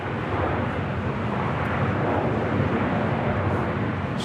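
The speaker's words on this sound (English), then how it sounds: "Next arrival is American Airlines Flight 463 coming in from Phoenix, Arizona, A321neo" American Airlines A321neo arriving at Los Angeles International Airport, heard as a steady, loud, broad jet roar that holds evenly throughout without talking.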